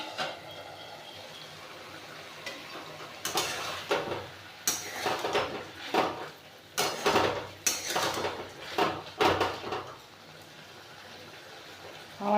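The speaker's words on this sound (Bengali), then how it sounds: "দেখুন আমি ঢাকাটা খুলছি।" A lid comes off a cooking pot with a few loud metallic clanks and scrapes, amid the clatter of kitchen utensils over a steady background hiss.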